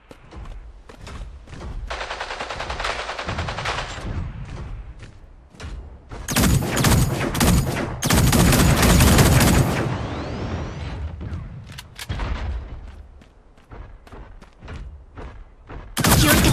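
Bursts of rapid gunfire and heavy impacts from the video game Super Mecha Champions, loud and chaotic, separated by brief quieter gaps with scattered shots and mechanical clicks.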